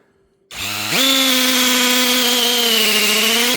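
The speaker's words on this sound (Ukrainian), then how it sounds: "Ну Давайте спробуємо з ударом." A power drill in hammer mode bores into pear wood, a loud steady high-pitched whine that kicks in, rises in pitch after half a second and holds close and constant with no talking.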